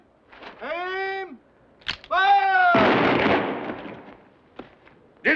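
A firing squad's rifle volley in a 1964 Western cracks out as one loud, near burst that rolls and decays over about a second and a half, preceded by shouted commands.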